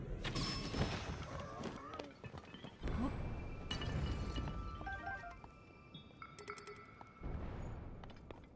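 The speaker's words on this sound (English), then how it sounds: "What is that smashing sound?" Loud crashes and shattering impacts from the game Zelda: Tears of the Kingdom, several bursts with clinking debris over a busy game soundscape, a voice faintly present.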